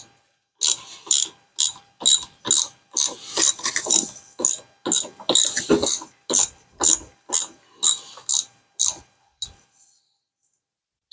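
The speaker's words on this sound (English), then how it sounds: "I'm tightening up the bolt now." A ratchet tightens a bolt into a threaded insert, about twenty close, regular clicking strokes that slow and end after roughly nine seconds, with no voices.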